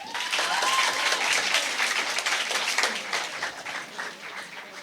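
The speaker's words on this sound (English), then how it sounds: "A round of applause for him." An audience at a secondary-school impromptu speaking competition breaks into sustained applause for a competitor, a dense, close burst of clapping that slowly thins out over a few seconds.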